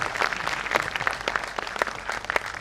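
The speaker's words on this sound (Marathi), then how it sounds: "एकदा जोरदार टाळ्या त्या शिक्षकांसाठी." An indoor audience at an award ceremony for state award-winning teachers claps steadily, a dense, continuous round of applause from a sizeable crowd.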